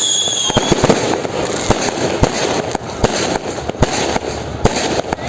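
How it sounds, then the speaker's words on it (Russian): Fireworks burst at close range on a beach in Phuket, Thailand, during a night New Year celebration, with a dense, continuous string of loud cracks and pops and a few sharper bangs standing out, no voices. "Потому что салюты взрывают прям практически под ногами."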